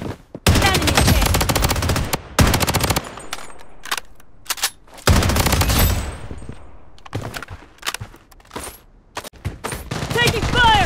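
Gunfire in the shooter game Blood Strike comes in loud, close bursts of rapid automatic shots, separated by short pauses, with game voice callouts mixed in.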